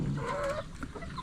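Farm chickens clucking nearby in a short, close burst of low clucks and chatter, with no talking over it.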